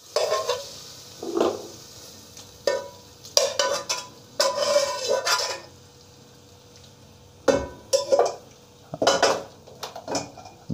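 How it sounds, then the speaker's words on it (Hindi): A spoon stirs chicken makhni handi in a metal pot, with repeated scraping clanks and knocks against the pot in uneven bursts over a soft sizzle and no talking. "मिक्स करें इसे।"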